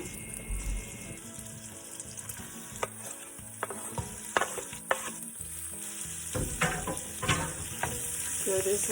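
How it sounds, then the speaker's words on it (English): Leftover ham browns in a pot as soup gets started, a low sizzle running underneath while a spoon scrapes and knocks against the pot in irregular strokes, some louder clanks near the end, with no speech. "Stir it brown. Add your leftover ham."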